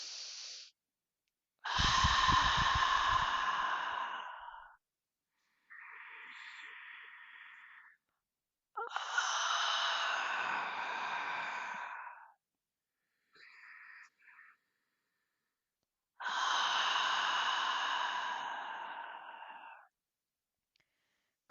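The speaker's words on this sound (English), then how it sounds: "Take 3 deep breaths with me." Three slow, deep breaths are drawn during a guided meditation for a Taurus blood moon lunar eclipse, each audible inhale followed by a long breathy exhale, close and unhurried, with quiet pauses between them.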